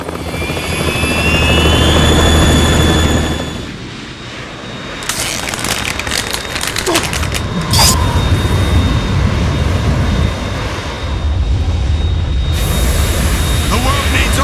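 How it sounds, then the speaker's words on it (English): A Harrier jet in Metal Gear Solid 2 roars loudly under game sound effects and dialogue, a steady engine drone with sharp bursts of noise and brief pauses, while voices speak over it. "It's the Harrier."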